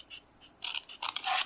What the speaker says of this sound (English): take my scissors and cut that out